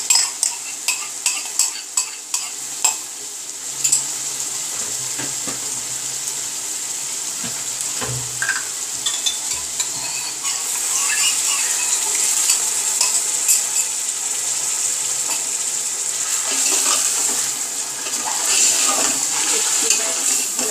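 Chicken with yogurt fries in a pot for yakhni pulao, a bright steady sizzle under repeated metal stirring clanks and scrapes, busiest at the start and swelling louder later.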